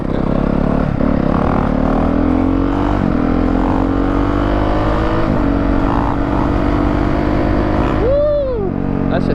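A Yamaha YZ 450 dirt bike is ridden with its engine roaring loud and close, the pitch climbing and dipping as the throttle changes throughout.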